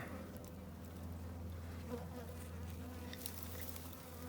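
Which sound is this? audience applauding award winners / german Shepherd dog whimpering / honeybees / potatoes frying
honeybees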